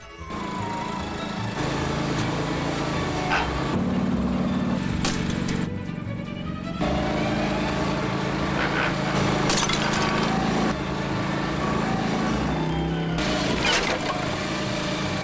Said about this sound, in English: And that's my new lawn tractor.